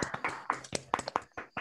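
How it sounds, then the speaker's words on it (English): A small round of applause in an online meeting: a handful of scattered claps and taps from a few people, thin and uneven, spaced out over under two seconds. "Maybe we can all unmute ourselves and give Joe a small round of applause"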